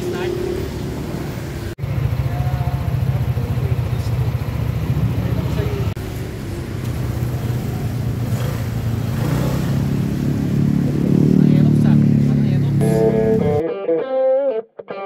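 A new Bristol AX 180 180cc scooter engine starting, a continuous engine hum that builds louder toward the end before cutting off, with people talking over it.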